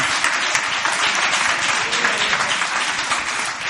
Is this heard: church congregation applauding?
yes